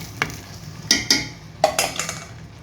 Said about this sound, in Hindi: अब हम इसे अच्छे से मसाले के अंदर भून लेंगे